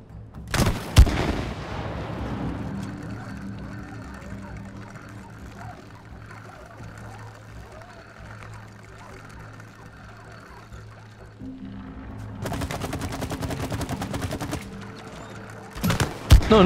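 Gunfire in the video game It Takes Two: a loud shot opens, then a steady mechanical rumble with light clatter fills the middle, followed by a dense burst of rapid impacts and a final sharp blast, with no voices.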